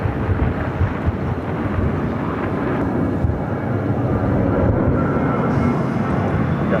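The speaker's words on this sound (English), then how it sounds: "Southwest Airlines flight 3869 headed to Long Beach on a 737-700" A Southwest Airlines Boeing 737-700 on flight 3869 to Long Beach at Phoenix airport, a steady, broad jet roar that stays loud throughout, heard from a distance with wind buffeting.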